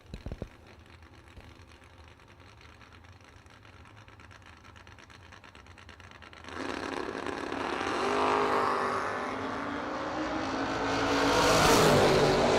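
Drag race cars launch down the strip, one of them a Monza, with a loud engine roar that starts abruptly and builds and swells as the cars accelerate away, no talk over it.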